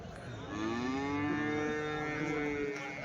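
A calf or cow at a busy Sunday cattle market in Chintamani lets out one long, drawn-out moo close by, steady and loud for most of the clip, with no talking over it.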